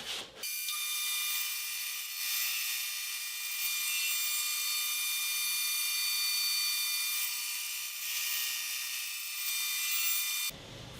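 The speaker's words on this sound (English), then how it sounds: "So next I need to cut some Purple Heart segments" Purple Heart wood segments cut on a power saw into thin pieces for a segmented bowl, a loud steady high-pitched whine running continuously for about ten seconds before stopping abruptly.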